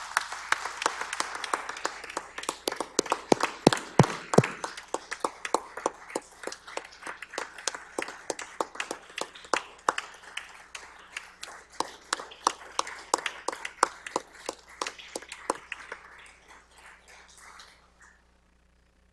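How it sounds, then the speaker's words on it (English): A large audience applauds a state's first woman governor at a 2022 State of the State address: sustained, dense clapping that thins into scattered claps and stops near the end. "Please join me in a round of applause to pay tribute to this remarkable leader"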